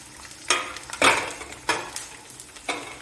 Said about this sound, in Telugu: పచ్చిమిర్చి వేస్తున్నాను.